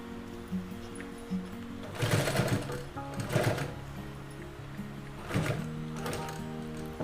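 A sewing machine stitches the lining of a double-zipper fabric pencil pouch in three short bursts of rapid whirring. Quieter handling noises of the fabric being moved fill the gaps between bursts.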